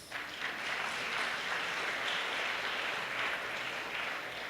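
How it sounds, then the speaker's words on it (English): Applause rises from the crowd at a secondary school graduation ceremony, a soft, distant, even patter of many hands sustained throughout the clip. "Round of applause, please."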